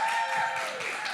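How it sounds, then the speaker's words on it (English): Audience applause for a couple at a youth panel: a brief, steady wash of clapping from a room full of people, moderately loud, lasting about a second with a faint tone underneath. "Can we give them one more round of applause?"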